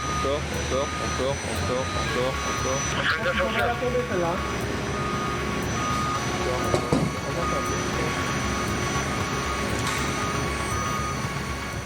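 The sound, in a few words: Rafale jet aircraft engine on aircraft carrier Charles de Gaulle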